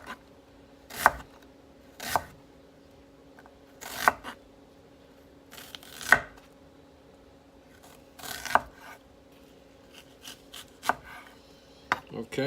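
A knife chops down through focaccia bread onto a cutting board in sharp, isolated strikes, about a dozen knocks spaced irregularly, close and crisp with quiet between.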